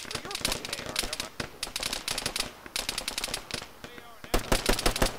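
Rapid machine-gun and rifle fire from a ShackTac Arma military video game session crackles in dense bursts throughout, close and loud, with players talking over the shooting.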